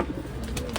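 Pigeons feeding on millet and wheat grain, soft low cooing close by with faint pecking and rustling around it.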